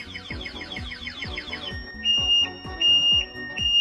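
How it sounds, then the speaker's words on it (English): A car alarm goes off close by, first cycling through rapid repeating falling chirps, then switching to loud, steady high-pitched beeping tones. "Most people freak out when they hear their car alarm"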